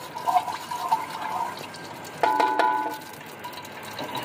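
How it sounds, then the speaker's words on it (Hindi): A bowl of oil pours into a cooking pot on the stove, a close liquid glugging and splashing that swells midway, then settles into a softer trickle. "1 कटोरी ऑयल डालेंगे।"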